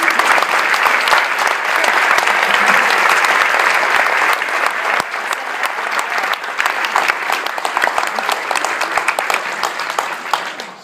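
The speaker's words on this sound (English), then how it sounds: "I think he deserves a round of applause" An audience at a Penn State alumni event gives a long round of applause, loud and full at first, then thinning slightly but continuing steadily for about ten seconds.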